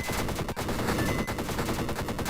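Rapid machine gun fire from a starfighter in the space game Starfighter R&D, a dense continuous burst of sharp staccato shots, loud and close, with a faint tonal hum running underneath.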